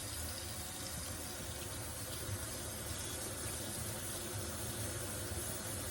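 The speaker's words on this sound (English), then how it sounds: "Now, I'm just going to add that water to them." Water runs steadily into a cooking pot of fresh mustard greens, a continuous broadband gushing and splashing pour that stays even throughout with no voices.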